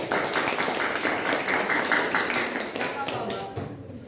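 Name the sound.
classroom applause, students clapping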